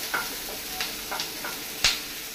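Chilli prawns frying and being tossed in a pan over a high flame, with a few scattered stir and sizzle bursts and one sharper toss near the end, close and fairly quiet.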